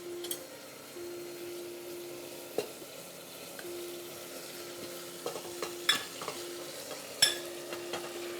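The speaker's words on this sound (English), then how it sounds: "I'll add some lamb to it." Lamb frying with yogurt in a pan for biryani, sizzling steadily under a low hum while a spoon scrapes and clinks against the pan in intermittent taps.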